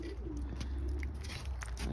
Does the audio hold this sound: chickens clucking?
no